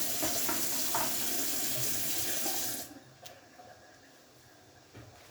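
Kitchen tap water running steadily into a sink while bulgur is rinsed for lentil bulgur pilaf, a loud even rush for about three seconds before it shuts off and quiet handling noises follow.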